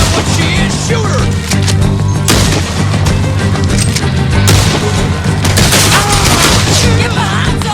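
Dense gunfire from a Red Dead Redemption 2 shootout, loud and continuous with overlapping shots and booming blasts throughout, no clear gaps.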